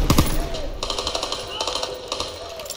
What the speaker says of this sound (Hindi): फ्लेम थ्रोवर गन है ये।